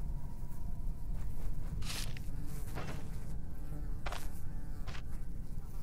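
Flies buzz in a dungeon in the game Stoneshard, a low insect drone that keeps up without a break. Short buzzy swells pass close by, and no one talks over it.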